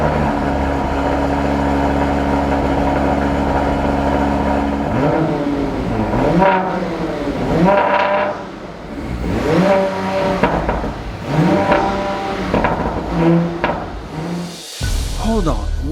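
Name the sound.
Audi RS5 twin-turbo V6 engine starting and revving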